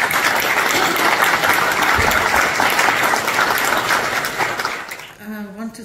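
Audience at a book presentation breaks into sustained, dense applause that fills most of the moment, fading near the end as a voice begins to speak.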